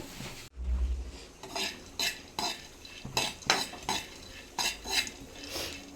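Peanuts being dry-roasted in a pan for dosa, stirred with a metal utensil that scrapes and clinks against the pan in repeated bursts, close and fairly loud, with no voice.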